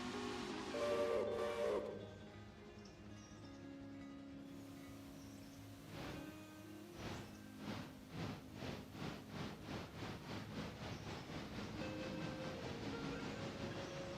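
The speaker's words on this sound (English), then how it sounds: "Follow that train!" A steam train in the video game Railroader, starting with a hiss and rumble, then a steady chuffing exhaust beat that builds into a fast, regular rhythm.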